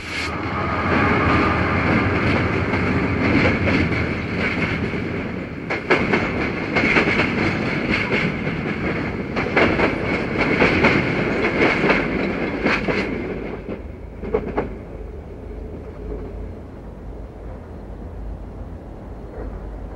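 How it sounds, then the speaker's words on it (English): An eastbound freight train rolls past the Buffalo Central Terminal with a loud, close rumble and clattering wheels. The sound thins and fades over the final seconds as the train moves away. "an eastbound supervan passes our choice location for the Limited's departure"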